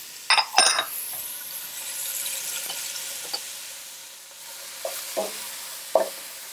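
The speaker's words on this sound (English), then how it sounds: "We're just going to saute this for a few minutes." Finely chopped onions, carrots and celery sauté in a pan, giving a steady soft sizzle broken by a few clattering stirs and utensil knocks at the start and again near the end.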